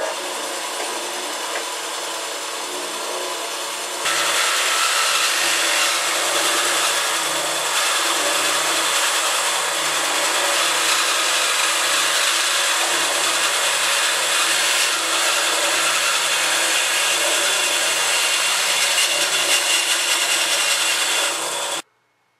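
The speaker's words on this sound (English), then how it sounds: "And now we can cut down these elbows." A power saw cuts down plastic pipe elbows for a homemade air hockey table, starting as a softer grind and then running loud and steady for about eighteen seconds before stopping abruptly.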